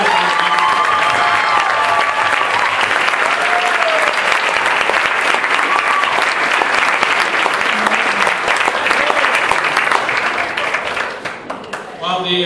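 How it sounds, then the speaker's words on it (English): A large crowd gives a long, loud round of applause for the winners of a pageant, with some cheering and voices mixed in before it fades near the end. "Folks, give one more round of applause for these winners."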